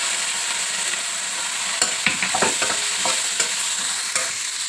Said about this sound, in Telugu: ఒక నిమిషం పాటు నూనెలో వేగనివ్వాలి